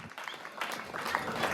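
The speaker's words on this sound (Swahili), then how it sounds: "Tuwapigie makofi jameni." Applause from an audience at a Kenyan album launch event, a dense wash of clapping that swells over about a second and a half, with a little crowd murmur underneath.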